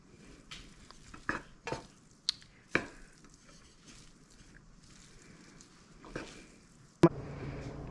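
Spaghetti bolognese pasta tossed and coated in sauce off the heat on a countertop, with scattered soft stirring scrapes and clinks of a utensil against the pan, then a sharp knock followed by a steady rustle.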